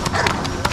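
Horse hooves clip-clop in a quick, irregular series of sharp taps on the ground as the horse is worked under a handler's direction, close and fairly loud over background noise.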